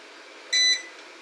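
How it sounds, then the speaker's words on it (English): A single short electronic beep from a QWUAV pure sine wave battery backup system, clear and fairly loud, against a quiet background hum. "You hear it beep."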